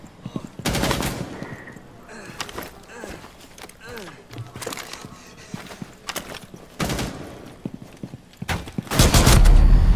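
Gunfire in the tactical shooter video game Rainbow Six Siege crackles in several loud bursts of shots spread across the clip, with players talking over the game sounds between the volleys.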